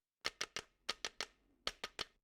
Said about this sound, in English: I wanted to record some percussion using the rhythmic theme that Austin gave us